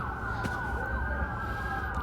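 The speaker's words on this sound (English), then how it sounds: "I was just curious who has the sirens." An emergency vehicle siren wails steadily and fairly close, holding a continuous tone over a low rumble of background noise for the whole two seconds.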